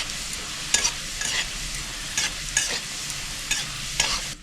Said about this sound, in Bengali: রসুনটা একটু লাল লাল করে নিচ্ছি।